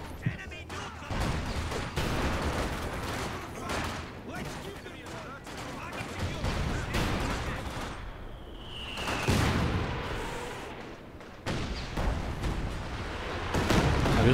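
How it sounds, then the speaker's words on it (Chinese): Katyusha rocket artillery barrage in a Company of Heroes 2 battle: a dense, continuous roar of blasts and crackling fire with several louder surges, while a commentator talks over it throughout. "卡秋莎选择轰炸 VP。"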